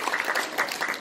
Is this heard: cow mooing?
no